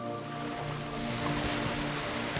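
Ocean waves roll and wash in a steady, broad surge with a windy, open-air hiss, building slightly toward the end with a louder rush.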